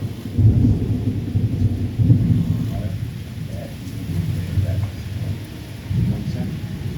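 Heavy rain pours steadily while deep thunder rumbles roll in several swells, close and loud, with faint indoor background.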